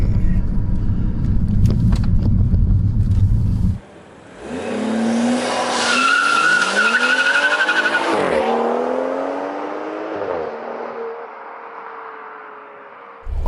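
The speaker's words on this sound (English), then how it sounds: "that's BMW Launch Control, and that's the launch control of my 435" A BMW 435i launching under launch control: a held high idle gives way to a loud engine surge, tires squealing as the revs climb through gear changes, then the sound settles into a fading cruise.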